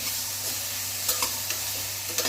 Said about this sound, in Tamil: காய் ஆட் பண்ணிவிட்டு இந்த மாதிரி ஒரு நிமிஷத்துக்கு நல்லா வதக்கிக்கலாம்.